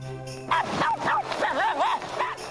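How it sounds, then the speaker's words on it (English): A dog lets out a run of high, yelping barks and whiny yips, several in quick succession, close by and fairly loud. "That's why she's barking so much"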